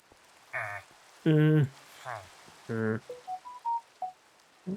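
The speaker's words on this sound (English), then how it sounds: "Sorry, that's my phone going off." A mobile phone notification goes off, a series of short electronic tones in a rising then falling pattern, heard close and fairly loud in a quiet room.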